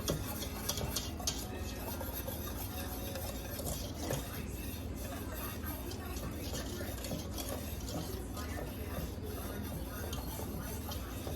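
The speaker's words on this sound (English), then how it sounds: "Stirring constantly." Steady scraping and clinking of a utensil stirring a pot of sugar mixture for no-bake cookies, continuous and close, over a busy background hum.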